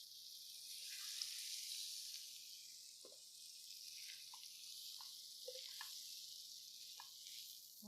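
Flat iron steak searing in a skillet gives a faint, steady high hiss of sizzling, dotted with small pops and crackles, with no one talking.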